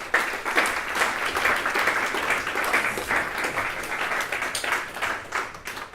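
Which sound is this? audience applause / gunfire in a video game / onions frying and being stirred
audience applause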